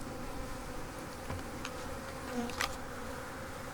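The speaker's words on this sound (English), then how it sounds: "the bees are foraging" Honey bees foraging at sugar syrup in cool outdoor air give a continuous close buzzing hum, with a few individual bees passing nearer for brief louder swells.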